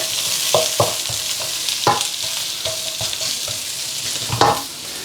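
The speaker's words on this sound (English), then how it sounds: "In with some onions. In with some garlic. Nice little stir around." Chopped onions and garlic sizzle in a little oil in a pan while being stirred, with a steady frying hiss broken by several sharp scraping stir strokes close by.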